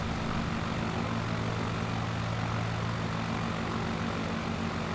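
A propeller aircraft engine in a Flight Simulator game drones steadily and loudly throughout, a continuous unbroken hum of the single prop engine with no voices over it.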